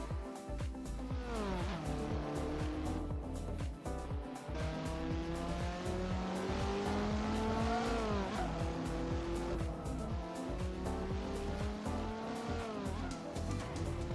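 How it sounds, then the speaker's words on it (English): A Porsche 930 Targa in a racing video game mod revs and slides, its engine note rising and falling while tires squeal repeatedly, loud and close across the whole stretch. "I'm going to take the roof off and screech into the distance on this."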